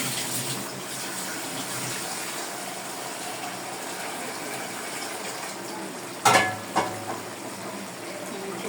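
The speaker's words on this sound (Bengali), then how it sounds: "এখন হালকা করে আমি একটু পানি দিয়ে দিব।" A steady, close rush of water hisses over cooking greens in a pan, continuous throughout with a couple of brief clanks near the end.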